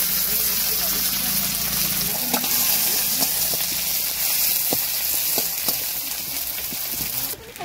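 Green chillies fry in hot oil in a wok, giving a loud, continuous sizzle with occasional sharp pops and utensil clicks, and a clatter near the end.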